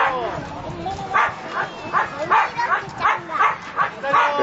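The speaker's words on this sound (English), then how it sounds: "there's a bunch of sled dogs on a Sunday afternoon" Sled dogs on a sunny, snowless beach bark and yip in a rapid series of close, loud barks, roughly twice a second, with excited whimpers mixed in and no clear speech.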